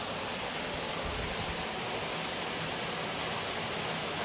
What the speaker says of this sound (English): you can hear a waterfall going through it